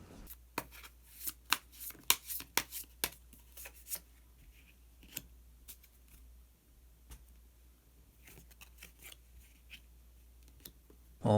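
Tarot cards are shuffled and drawn close up, with a busy run of crisp riffling snaps and slaps that thins to scattered soft card clicks and handling noises, quiet and without talk.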